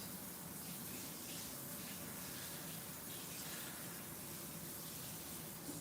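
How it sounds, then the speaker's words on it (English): Cooked shrimp rinsed under running tap water in a kitchen, a steady, even gush of water throughout, fairly quiet, with no talking. "And the shrimp, just gonna rinse it."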